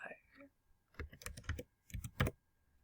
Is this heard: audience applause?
no